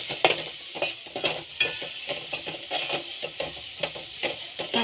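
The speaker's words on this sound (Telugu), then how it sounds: "ఇప్పుడు అంతా కలిపేసుకుందాం మంచిగా" Pepper chicken liver fry with garam masala is stirred in a pan, irregular scraping strokes of the spoon over a steady sizzle, close and clear with no talking.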